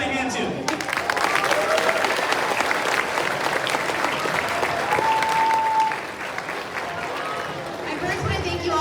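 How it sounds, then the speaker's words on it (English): Audience at an elementary school event applauding, steady sustained clapping from a crowd filling the room, with some cheering and chatter mixed in before it tapers slightly near the end. "So let's give them a hand too."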